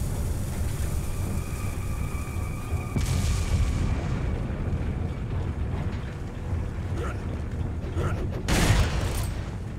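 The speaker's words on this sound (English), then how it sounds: "How the hell these guys are not dead after the dynamite explosion?" A dynamite explosion in the Resident Evil 4 mines level: a sudden broadband blast about a third of the way in, with low rumbling throughout and a second sharp burst near the end, mixed with mechanical game ambience.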